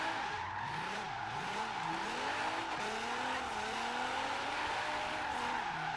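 A low-slung GTR drifts in Forza Horizon 3 across a surfers' parking lot, its tires squealing in long wavering slides over a continuous engine roar that rises and falls with the angle of the car.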